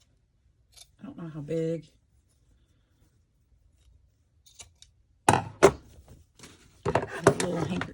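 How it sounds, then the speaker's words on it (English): Paper being cut with scissors for a Christmas journal craft, a few close snipping and rustling sounds between bursts of talking. "Let's just cut a piece."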